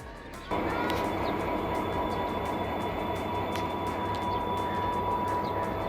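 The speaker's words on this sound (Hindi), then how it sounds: "लांडी स्टेशन पे शाह लतीफ़ खड़ी हुई है और ये 8210 के साथ शाह लतीफ़ एक्सप्रेस" The Shah Latif Express stands at Landhi station with locomotive 8210, its engine rumbling steadily and close by after a sudden onset, with a faint high tone and scattered clicks over the drone.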